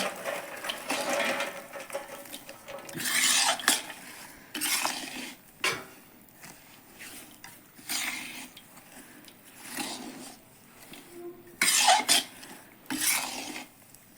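Roasted makhana being mixed into panjiri in a metal pot, with a spoon scraping and stirring in irregular bursts of rasping, clinking strokes separated by short pauses.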